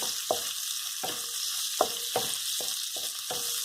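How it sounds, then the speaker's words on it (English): Fried rice being stirred in a hot oiled pan, Hawaiian bar-food style: steady sizzle throughout with repeated scraping strokes of the utensil roughly every half second, close and clear, no voices. "So here, I'm stirring everything."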